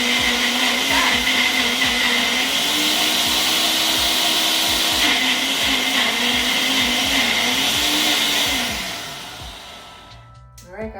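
Blender whirring steadily as it purees a peach and mango sauce, a loud continuous motor drone for about nine seconds before winding down to a stop.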